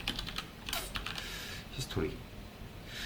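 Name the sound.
typing code on a computer keyboard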